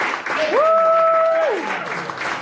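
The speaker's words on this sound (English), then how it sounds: "Give them a round of applause, please." Audience applause rises and falls at an improv theater graduation show. A rising, sustained whistle from the crowd cuts through the clapping partway in.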